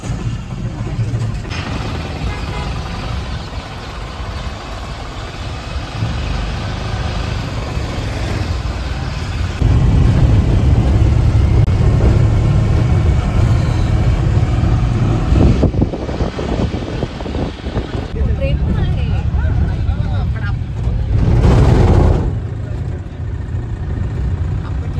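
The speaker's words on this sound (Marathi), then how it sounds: "आता आमची गाडी सुटते." A vehicle pulls away from a stop in Pandharpur, its engine droning steadily and swelling louder partway through, with buffeting wind noise and faint voices in the background.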